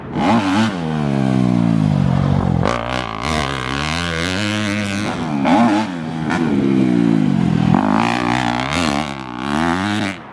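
A 2018 Yamaha YZ250F dirt bike rides through left-hand corners at a motocross track, its engine loud and near, revving up and down with throttle changes and brief dips between bursts.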